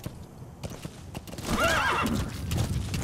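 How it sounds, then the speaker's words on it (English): A horse in Metal Gear Solid V: The Phantom Pain trots with sharp clip-clopping hooves, then lets out a loud wavering whinny mid-clip, hoofbeats continuing close by. "I got a horse."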